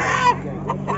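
Chickens at a goat market fair, a brief close squawk or cackle from fowl over a murmur of background chatter, lasting about a second.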